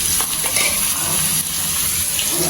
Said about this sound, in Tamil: சரி மிளகாயும் போட்டு உப்பையும் போட்டு பொரிய விட